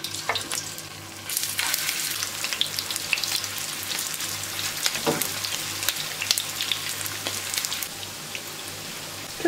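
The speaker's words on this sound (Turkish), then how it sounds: "Yağ iyice ısındıktan sonra köfteleri koyuyorum." Meatballs sizzle and crackle steadily in hot oil, a dense continuous frying hiss with scattered pops, no voices.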